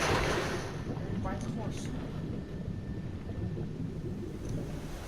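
A lightning strike and rolling thunder in the video game Metal Gear Solid 5, a loud crack followed by a sustained deep rumble with rain and rushing water noise, a voice faintly underneath.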